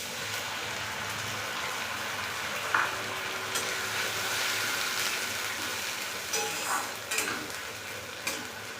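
Ginger, garlic and onion paste added to potatoes frying in oil, a soft, steady sizzle with occasional stirring scrapes and clinks of a utensil against the pan, close and moderately quiet.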